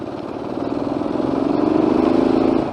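TVS Apache RTR 180 motorcycle accelerating on a quiet road, its engine note rising in a steady, pulsing climb for a couple of seconds before easing off, close and fairly loud, with no talk.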